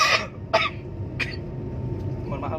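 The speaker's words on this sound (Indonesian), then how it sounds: "mohon maaf batuk" A person coughs several times in short separate bursts, close and fairly loud, with a soft background hum between them.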